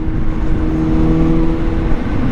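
A 2023 Kawasaki ZH2 supercharged motorcycle engine runs steadily, a loud, close, continuous drone with a sustained hum and no talk over it.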